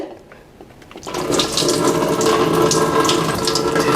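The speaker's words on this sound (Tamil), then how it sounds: "அதை இப்படி எடுத்து விட்டால் நமக்கு தண்ணி வெளியில் வந்துருங்க" Water gushes from the bottom drain hole of a portable electric ice maker once the plug is pulled, a loud, steady splashing rush starting after a second and continuing alone.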